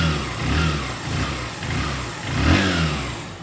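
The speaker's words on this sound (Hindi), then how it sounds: "तो ये गाड़ी हो गई स्टार्ट हमारी," A restored Honda Shine motorcycle runs nearby, its engine putting out a steady mid-pitched hum that swells with a few moderate throttle revs, the clearest rising near the end, with no voices.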